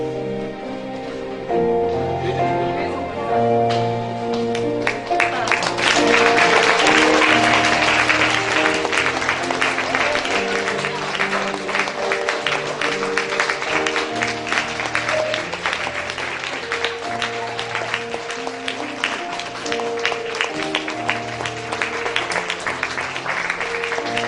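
An audience applauds at a church elder ordination service as flower bouquets are presented, a steady, dense clapping that swells after a few seconds and continues over organ or keyboard music for the whole stretch.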